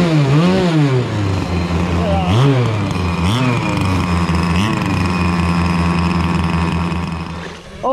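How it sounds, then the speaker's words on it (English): Small model boat engine revs repeatedly in rising and falling bursts, loud and close, buzzing over a steady drone at a puddle race among friends; voices talk over it. "Give it a rev, Ben."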